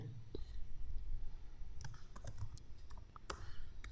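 Quick computer keyboard typing and clicking while entering item options in inventory software, with light irregular taps heard close up under faint low talk.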